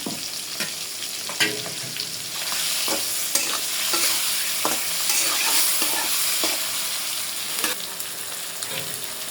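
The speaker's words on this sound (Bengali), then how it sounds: "প্রথমে চিংড়ি মাছগুলো ভেজে নেবো" River prawns fry in hot oil in a pan, giving a steady sizzle broken by repeated clinks and scrapes of a spatula stirring them, close up with no talk.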